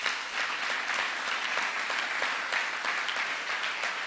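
Church congregation applauding to acclaim Jesus during a sermon, a steady wash of many hands clapping at moderate volume, with some individual claps standing out in a loose rhythm.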